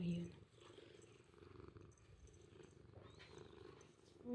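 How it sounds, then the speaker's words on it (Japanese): A house cat purrs in a low, steady, continuous rumble, very close and quiet, for the whole stretch. "早いな、ゴロゴロ言うの。"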